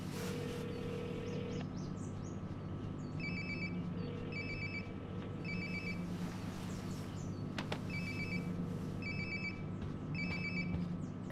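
A mobile phone ringtone in Life Is Strange: Before the Storm rings in repeated short electronic bursts, moderately loud over a steady low ambient game background with no talking.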